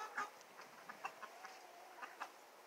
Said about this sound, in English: Ooh, look at all these chicken and ducks.